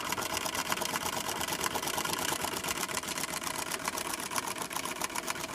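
Singer 306 sewing machine running steadily, a fast even clatter of stitching with dense rapid needle rhythm, close and continuous throughout with no voices.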